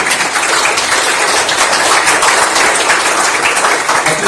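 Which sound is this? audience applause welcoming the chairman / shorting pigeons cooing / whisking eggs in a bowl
audience applause welcoming the chairman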